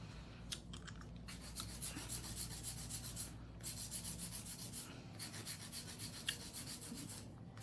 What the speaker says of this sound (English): Sometimes hand filing, definitely a way to go.